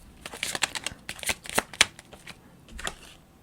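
Tarot cards being shuffled and drawn, a close, quiet run of soft flicking riffles and light taps with irregular rhythm, heard without speech.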